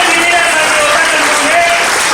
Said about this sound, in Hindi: हेमंत जी, ताली होनी चाहिए उनके लिए।